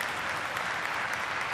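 Audience applause at a real-estate talk by the Keller Williams founder, a short burst of steady crowd clapping, moderately loud and unbroken, with no voices over it.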